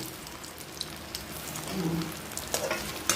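Soybean balls shallow-fried in a small amount of oil, giving a steady close crackling sizzle with scattered pops and occasional light utensil taps.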